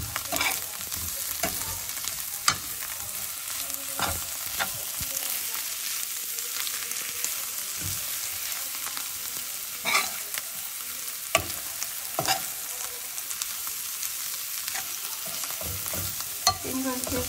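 Bitter gourd with a little sugar sizzles gently in a pan while a spatula stirs it, soft continuous frying hiss broken by sharp scraping and tapping strokes against the pan at irregular intervals, close and fairly quiet, no talking.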